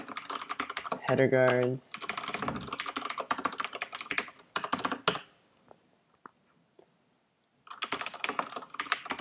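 Fingers type on a computer keyboard while writing C++ code, a rapid close clatter of keystrokes in bursts with a pause partway, and someone speaking briefly over it.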